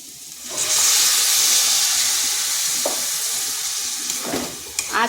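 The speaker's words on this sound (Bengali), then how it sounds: "এরপর সামান্য একটু জল দেব" Water hits a hot pan of barbati (yardlong beans) and potatoes being cooked down, setting off a sudden loud sizzling hiss that carries on strongly and eases slightly toward the end.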